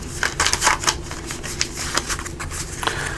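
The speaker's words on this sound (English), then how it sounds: "So let me just shuffle these up here." Tarot cards shuffled by hand, a run of quick riffling, papery bursts of varying loudness, close up with no talking.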